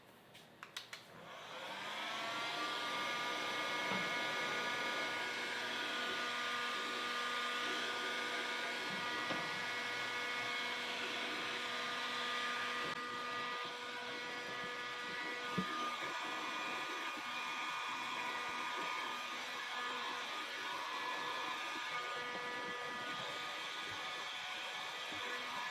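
A heat gun blows steadily and loudly to soften and reform a Teflon chute deflector on a Honda HSS1332ATD snowblower, its constant whirring hiss holding close and unbroken for the whole stretch with no talking.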